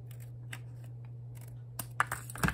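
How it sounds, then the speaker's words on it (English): Paper snips cutting paper during a Stampin' Up! adhesive caddy papercraft project: a couple of short, crisp snips near the end over a steady low hum. "you can use your trimmer, or you can just go ahead and use your paper snips"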